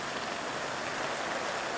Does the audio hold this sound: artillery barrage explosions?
no